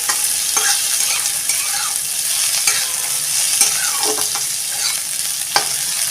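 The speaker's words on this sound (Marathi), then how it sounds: "कांदा आपण थोडा वेळ परतून घ्या." Sliced onion sautés in a pan, giving a steady, close sizzle with repeated scraping stir strokes throughout, for a Maharashtrian white rassa curry.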